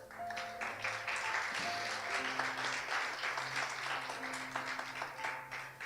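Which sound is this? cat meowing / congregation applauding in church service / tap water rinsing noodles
congregation applauding in church service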